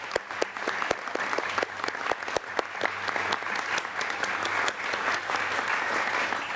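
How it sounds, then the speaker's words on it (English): An audience at a formal human rights session on North Korea gives the panelists a round of applause: a steady burst of crowd clapping, with sharper individual claps standing out near the start. "Let's give all of our panelists another round of applause"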